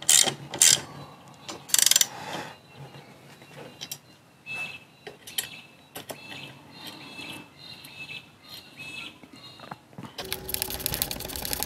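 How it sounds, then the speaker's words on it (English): A ratchet tightens a bracket bolt on a Toyota Land Cruiser 80 Series during a 12-volt system upgrade, making bursts of quick metallic clicks in an uneven rhythm, close and fairly loud, ending in a denser clatter. "hold that there and ratchet her down"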